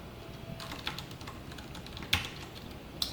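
JavaScript code is typed on a computer keyboard in a quiet room, with soft, fairly faint key clicks in an uneven rhythm and a few sharper taps.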